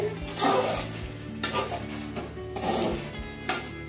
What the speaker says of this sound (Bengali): এখন আমি দিয়ে দেবো যে আলুগুলো ভেজে রেখেছিলাম সেইগুলো